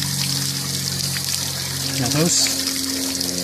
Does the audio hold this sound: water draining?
yes